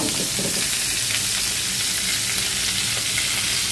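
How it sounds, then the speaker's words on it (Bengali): Potato and cauliflower pieces frying in a pan, a steady broadband sizzle with faint crackles that holds level throughout, close and fairly loud, with no voices. "আলু আর ফুলকপিটা ভাজা হয়ে গেছে"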